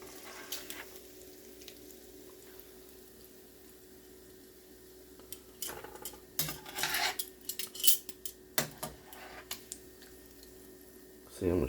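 Deep-fried bacon is lifted out of hot oil with metal utensils, giving quiet clinks, scrapes and clatters against a pan over a faint steady hum, the clatter growing busier toward the end.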